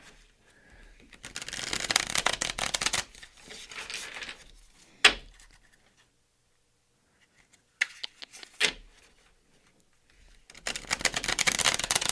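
Tarot cards are shuffled in quick papery bursts, a dense riffling flurry for several seconds, then a couple of sharp taps and a near-silent pause before the shuffling starts again at the end.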